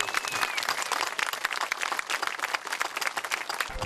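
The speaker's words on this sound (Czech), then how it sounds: "Potlesk!" Dense, steady applause from an outdoor crowd at a ceremony laying the foundation stone of a lighthouse lookout tower, sustained and fairly close with no voices over it.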